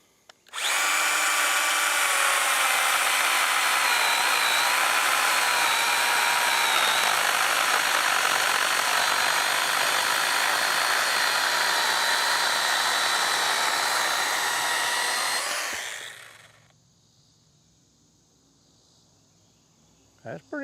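Stihl GTA 26 battery pruner chainsaw cutting through a white oak log: a loud, steady, high-pitched whine of chain on hardwood for about fifteen seconds, then it winds down and the motor whirs briefly before stopping.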